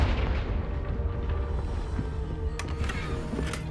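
A Confringo blasting spell explodes in Hogwarts Legacy as a low, muffled boom and rumble, with a couple of sharper crackling hits following later.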